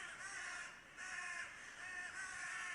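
Corvids cawing loudly in repeated harsh calls that come in three long bursts with short gaps, heard alone in a winter hunting area.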